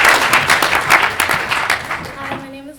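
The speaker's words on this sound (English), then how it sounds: "Give me a applause." Applause from an audience closing a business challenge presentation, a dense burst of clapping that thins and fades toward the end, with talk over it.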